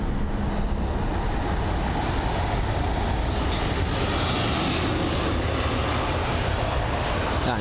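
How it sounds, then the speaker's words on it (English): Aer Lingus Airbus A320neo jet engines roar steadily at close range at London Heathrow, a broad, continuous rumble that holds level without a break and has no voices over it. "the Aer Lingus A320 Neo with a nice and quiet engine sounds"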